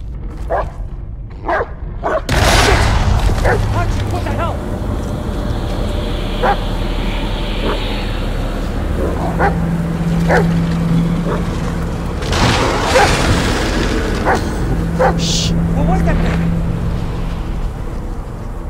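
Dog Bullet in the Blair Witch horror game barks in short separate yelps and woofs, scattered over a steady low rumbling ambience, some close and some a little distant, with no talking.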